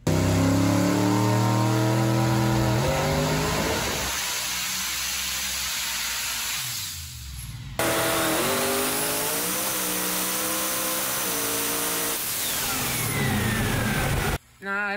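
A turbocharged car engine held on a trans brake revs hard to about 5,000 RPM, a loud sustained roar with rising and falling harmonics, dropping briefly midway before surging again; a voice is heard over it.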